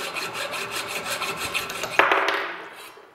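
A bicycle fork steerer tube, aluminium or carbon, being cut with a hand saw in a guide, giving a steady back-and-forth rasping stroke that ends with a sharper final scrape and fades out.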